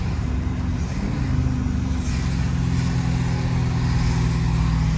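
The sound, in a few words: car driving in the rain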